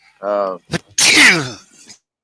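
One loud, close sneeze bursts out after a short spoken exclamation, with a faint breathy tail trailing off afterward.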